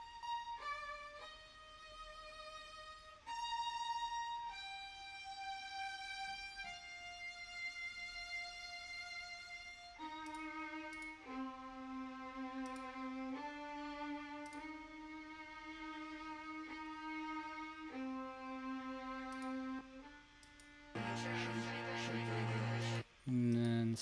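Layered first-violin string parts from a music production play back as sustained bowed notes that shift in pitch, thickening into a dense, bright chord near the end, with no talking.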